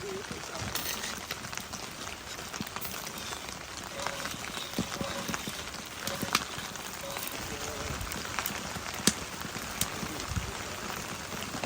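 Rain patters steadily on a camp cooking pan outdoors, a dense close-up spray of small taps with occasional louder drops and a faint boiling simmer underneath.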